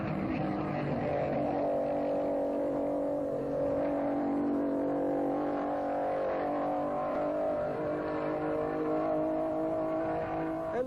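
A 1957 Maserati racing car, number 16, driven by Francisco Godia at the French Grand Prix at Reims, roars steadily at full speed, a loud sustained engine note that persists throughout.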